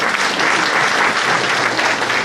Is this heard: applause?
yes